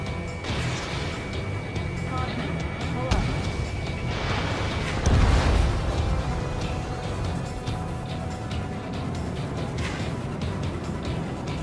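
Anti-air gun emplacements blowing up in the combat flight game Ace Combat 7, rumbling booms and crashes over a constant jet roar and in-game radio chatter, one heavier blast near the middle.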